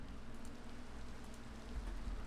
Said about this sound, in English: it's just raining, or it might be a thunderstorm possibly